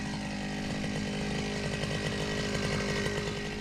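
Grass cutter's small petrol engine droning steadily at close range, a constant loud buzz without pauses.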